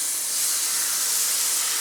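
Half a bowl of water poured onto hot spiced masala in a deep iron pan over a low flame, giving a loud, steady, bright sizzling hiss close by with no talking.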